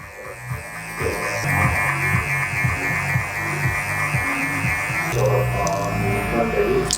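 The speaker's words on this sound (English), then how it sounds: "And now just using big clipper comb, blending it in to that point where we level it right off here." Electric hair clippers with a clipper comb buzz steadily close up while blending a disconnected fade on a men's wavy haircut, the motor tone wavering in short passes with a slight change near the end.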